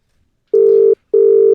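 A telephone line tone plays as a call is placed: two identical steady electronic beeps, each under half a second, separated by a short silence, loud and clean with no voices.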